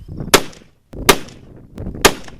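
Three sharp, close rifle shots from a Weatherby Compact Hunter .308 firing 150-grain Hornady rounds, each a loud crack with a short decaying echo, spaced less than a second apart.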